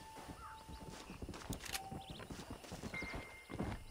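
Horse hooves clip-clop at a steady walking pace while a horse whinnies briefly, with faint tonal game chimes in the background, in the video game Red Dead Redemption.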